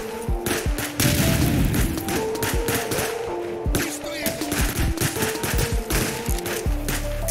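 Gunfire in the video game Contraband Police, rapid bursts of automatic shots and sharp single cracks repeating over several seconds, loud and close, with a heavier booming impact near the end.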